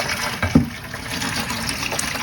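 Water gushing steadily from the drain of a hot water heater being flushed of sediment, a continuous broadband rush at moderate level with a brief louder splash near the start, no talking.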